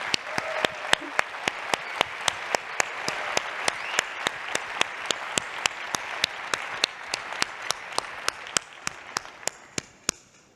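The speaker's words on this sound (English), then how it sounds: "let's give them a big round of applause." Audience applause fills a conference opening session hall, a steady dense wash of many clapping hands with sharp louder claps standing out at a regular beat, sustained throughout before tapering slightly at the end.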